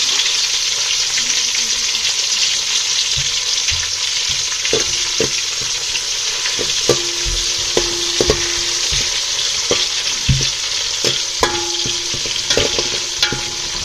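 Cabbage, onion, capsicum and brinjal frying in a pan, giving a loud steady sizzle with scattered spatula scrapes and knocks throughout, close up and without talk.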